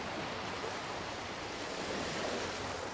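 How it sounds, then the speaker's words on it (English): Ocean waves roil around a windswept isle in the Lotano Sea near the maritime city-state of Limsa Lominsa in Final Fantasy XIV, a steady soft wash of surf and wind with no breaks. "amidst the roiling waves of the Lotano Sea"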